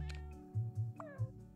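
A pet cat meows several times in quick succession, short close-up calls alternating with a higher tonal game sound in the background.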